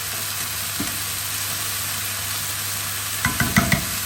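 Leeks, fish and Puy lentils stirred in a hot pan, a steady close sizzle of frying throughout, with a few clinking scrapes of the utensil near the end.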